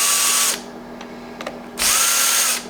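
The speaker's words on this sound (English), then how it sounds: "for a counterbore, just, you know, going with the drill" A power drill runs in two loud bursts while counterboring and deburring a hole for a slow-speed grinder build, with a quiet gap between them broken by a few small clicks.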